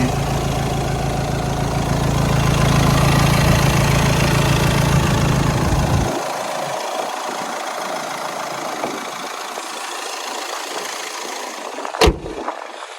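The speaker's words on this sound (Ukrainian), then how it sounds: "Ну і як власне працює двигун в Ауді." An Audi A6 TDI diesel engine with 218,000 km idles with a steady low rumble that drops off after several seconds, leaving a quieter hum and a sharp thump near the end.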